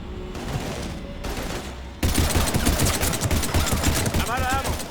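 Heavy gunfire in the video game Mass Effect 3: rapid bursts of automatic fire crackle loudly and continuously through the battle, growing denser and closer partway through, with a voice briefly heard.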